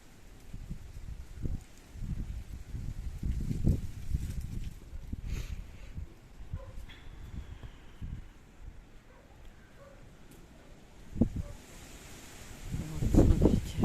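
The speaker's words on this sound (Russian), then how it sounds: "Ветер прям срывается резко." Strong gusty November wind after rain blows through trees, heard as low rumbling surges that rise and fall in waves, with quieter lulls between them and a heavy gust at the close.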